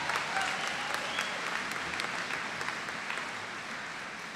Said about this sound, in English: Could we give them another round of applause, please?